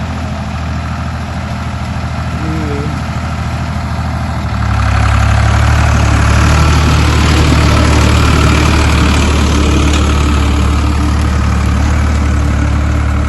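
A tractor engine rumbles continuously nearby in a farm field, growing louder and deeper partway through as it revs up, droning on without pause.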